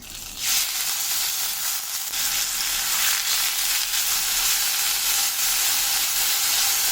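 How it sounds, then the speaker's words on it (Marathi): Finely chopped large onions hit hot oil with cumin, cloves and a cinnamon piece, bursting into a loud, steady sizzle that holds without a break for several seconds and carries no talk. "मोठे कांदे बारीक कापून घेतले ते घालायचे."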